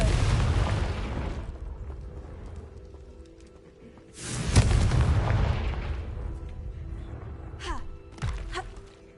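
A Confringo fire spell in Hogwarts Legacy on PS5 goes off as a loud booming blast, followed by a rumbling decay and later a couple of sharper pops, with a brief voice in the mix.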